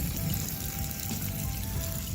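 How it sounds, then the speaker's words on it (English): Hot water drains from an unscrewed boat drain plug as the boat is winterized, making a steady close-up trickling, splashing rush that holds at an even level throughout with no voices. "Just waiting for super hot water to drain all over my hand."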